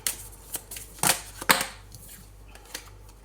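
Oracle cards being shuffled by hand, a few quick papery riffles and flicks with light taps between them, close and otherwise quiet.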